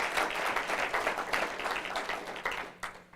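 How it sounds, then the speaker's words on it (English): Audience applause during a leadership talk, dense clapping that is strong at first and then thins and fades toward the end. "Can we give a round of applause for Let Us Make"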